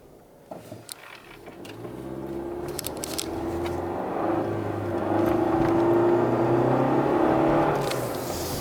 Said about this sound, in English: I do think you can hear the turbo a little bit more